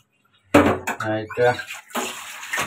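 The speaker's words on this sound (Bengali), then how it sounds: "এখন পরিষ্কার করার পরে হালকা একটু ধুয়ে নিব বন্ধুরা" Cleaned pabda fish are rinsed in a bowl of water, making brief close splashes and sloshing in short bursts, with a person talking over them.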